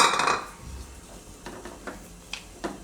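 Dates softening in ghee in a pan are stirred with a utensil, giving a few scattered clinks and scrapes against the metal after a brief louder clatter at the start, with no talking.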